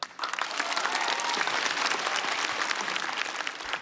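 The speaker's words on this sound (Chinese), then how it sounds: "掌声再给英宁。" An audience at a stand-up comedy show applauds, dense sustained clapping from a large crowd that swells quickly and holds steady throughout, with no speech over it.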